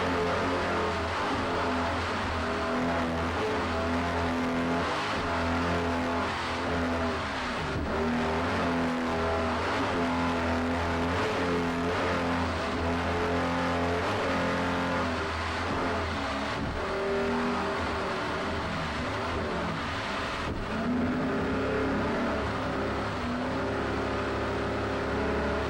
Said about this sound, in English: let's ride along this 34-foot Phantom with Doug Savory down the left